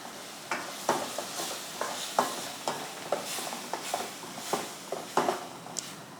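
A spatula stirs black urad dal curry frying in oil in a pan, with repeated scraping strokes at an uneven rhythm over a steady sizzle, close and fairly loud, with no talking.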